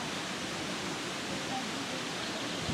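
Water rushing past the paddle-driven Lady Isabella water wheel at Laxey on the Isle of Man: a dense, steady, fairly loud roar of flowing water that holds constant throughout.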